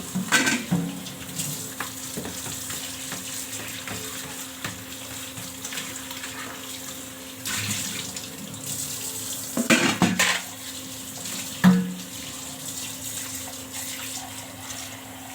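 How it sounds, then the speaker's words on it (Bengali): Dishes are scrubbed under a running kitchen tap, a steady close rush of water with occasional sharp clinks and clatters of pots and utensils. "আমি এদিকে বাসন টাসনগুলো খুব ভালো করে ধুয়ে নিব।"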